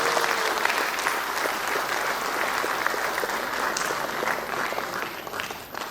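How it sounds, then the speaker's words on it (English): An audience at a university foundation day celebration breaks into steady, dense applause that holds for several seconds and fades slightly at the end, with no talk over it. "Huge round of applause."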